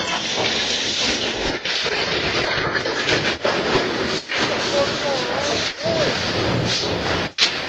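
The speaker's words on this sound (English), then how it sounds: "The train charges through deep snow like a snowplow, sending a dramatic burst of powder across the tracks." A train charges through deep snow like a snowplow with a loud, continuous rushing roar and hiss, broken by brief dips. It sounds close and dominant the whole time.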